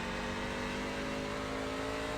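A NASCAR truck engine in a racing video game, lapping Oulton Park, holds a steady, loud, buzzing drone with a constant pitch throughout and no talking over it.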